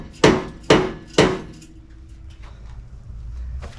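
Three sharp metallic hammer blows in quick succession on the bumper brackets of a 1979 Camaro Z28, ringing briefly, then a quiet pause with faint rustling.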